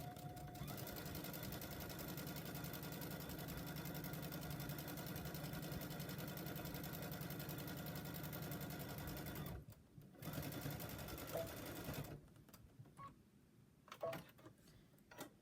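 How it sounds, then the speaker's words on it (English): A sewing machine back stitching a fabric bag runs in a steady, close mechanical whir for about nine seconds, then stops and restarts in short bursts, with quiet pauses between. "I'm going to stitch on both of these blue lines up here"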